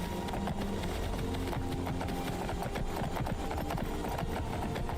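Rapid, steady hoofbeats of a horse being ridden in Skyrim play continuously and fairly close, a dense galloping clatter layered over a low background drone.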